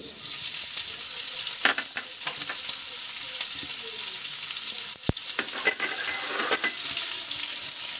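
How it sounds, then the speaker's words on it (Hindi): Sliced onion fries in hot oil with already browned garlic and cumin for a dal palak, a loud, steady sizzle with crackling pops and an occasional clink of the spoon against the pan. "अब मैं इसमें प्याज डालूंगी।"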